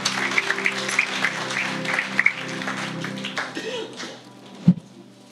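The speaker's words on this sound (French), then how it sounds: "Ce matin, est-ce qu'on peut leur donner un applaudissement?" Church congregation clapping during a French-language worship service, with a scattered patter of hands under singing and music that thins out toward the end, broken near the end by one sharp knock.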